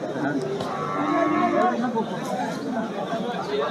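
A cow lets out a drawn-out moo amid crowd chatter at the Shimulia cattle market in Bangladesh, where people talk nearby throughout.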